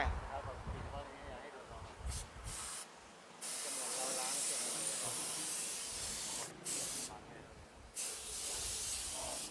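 A car wheel arch sprayed with a pressure washer or spray nozzle during car care cleaning, a loud steady hissing spray broken by short pauses, with bursts stopping and restarting.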